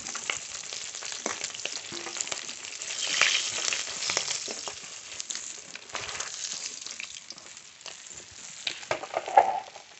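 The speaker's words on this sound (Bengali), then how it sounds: "মাছের মাথা ভালো করে ভেজে নিয়েছি" Katla fish head frying in hot oil in a pan, a continuous close crackling sizzle with scattered spits and pops that swells and fades, with no talking.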